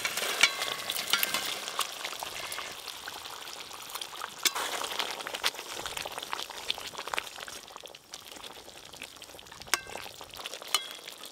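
Fried katla fish pieces going into a boiling yogurt gravy in a pan, giving a soft, steady sizzle and bubbling that stays faint with a few light clinks throughout.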